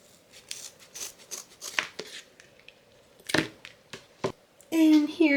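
Scissors snip a custom My Little Pony's synthetic mane close to the scalp in a few short, sharp cuts with quiet pauses, followed by a louder rustle near the end.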